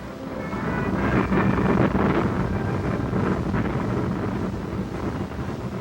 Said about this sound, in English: the desert calm was shattered by the roar of jet engines